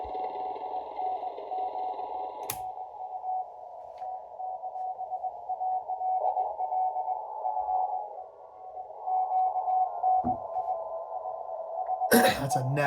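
Morse code CW signal received on a QRP CW-only radio, a steady tone held through most of the stretch with faint background hiss, brief clicks and a couple of short noise bursts, heard alone without talk.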